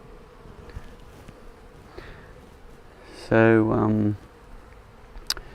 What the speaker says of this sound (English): straight away I can see there's quite a lot of bees in here